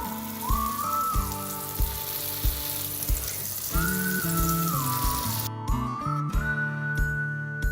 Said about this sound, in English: once you can hear them sizzling away